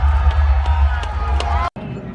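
An audience cheering wildly in a played-back video, loud sustained roar of crowd voices with whoops that cuts off abruptly near the end, followed by quieter murmuring.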